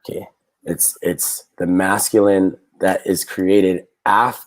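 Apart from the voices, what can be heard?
No everyday noises stand out.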